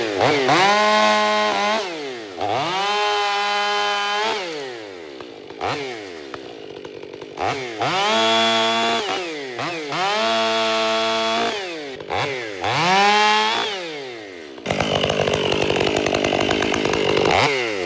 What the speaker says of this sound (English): I'm really liking the throttle response on this West Coast saws